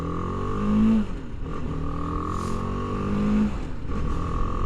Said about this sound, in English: Good little adventure bike, like I said, for a beginner or just a beginner rider in general